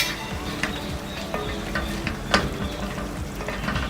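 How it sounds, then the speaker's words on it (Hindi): Ginger and green chilies fry in a pan for Lahori-style mutton karahi, with a dense, continuous sizzle close by and frequent light scrapes and knocks of stirring throughout. "इस स्टेज पे हम थोड़ा सा अदरक और ये हरी मिर्चें हम ऐड कर देंगे और अच्छे तरीके से इसकी भुनाई करेंगे"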